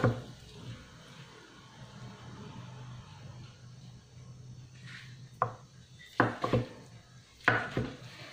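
Quiet room tone, then a few sharp knife strikes on a cutting board near the end as tofu is cut into cubes, irregularly spaced.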